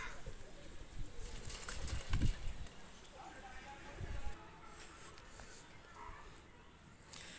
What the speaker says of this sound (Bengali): এই যে দুটো কবুতর নিয়ে আসলাম